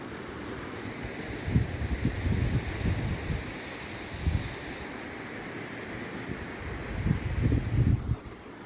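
Broad rushing wash of Black Sea surf on the beach at Lebedivka, Ukraine, swelling and easing in a few slow surges, with steady wind noise over the microphone.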